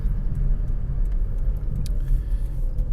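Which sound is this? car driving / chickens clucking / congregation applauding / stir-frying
car driving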